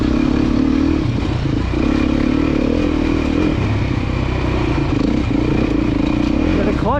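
A Beta motorcycle engine drones loud and close while riding at a demo day, a steady low roar with rattling and wind noise throughout, briefly rising in pitch at the end.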